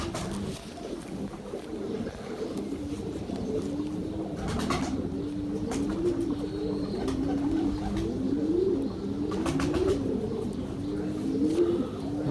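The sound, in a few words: pigeons cooing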